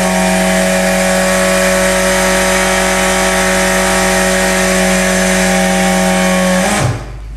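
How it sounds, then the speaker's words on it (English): Pneumatic telescopic drum rotator lifting a drum, a steady loud hiss and mechanical drone with constant tones running unbroken for several seconds before stopping with a brief clunk. "So let's lift this drum up. Press the operate button."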